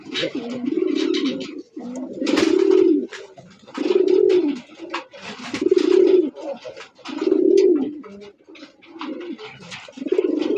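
A pair of domestic Bombai pigeons coo up close in repeated low, throaty phrases, about five rounded calls spaced evenly with short pauses between.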